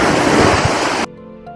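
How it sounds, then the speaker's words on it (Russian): Sea waves wash onto the shore in a loud, close, broadband surf roar that cuts off abruptly after about a second. "Ну вот, Манечка, первый раз море увидела."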